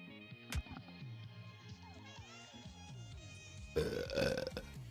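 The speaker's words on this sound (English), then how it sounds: "I don't do well with loud burps" A deep, drawn-out burp rumbles for several seconds near the microphone, with descending croaking tones, ending in a louder, rougher burst.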